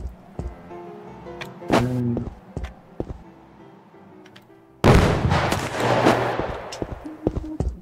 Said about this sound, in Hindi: भागो भागो भागो, बम फेंका है मैंने।